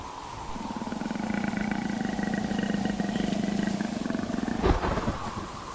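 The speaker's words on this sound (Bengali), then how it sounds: "বোন আর যেও না বাঘের গর্জন শোনা যাচ্ছে" A long, deep, rumbling tiger roar sustained for several seconds, loud and close, during a storm, ending with a sharp crack of thunder.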